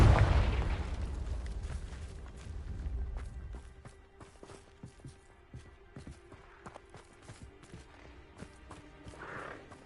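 A Confringo blasting spell detonates with a loud, close boom in Hogwarts Legacy, the blast rolling off over a few seconds into quieter footsteps and small clattering game sounds.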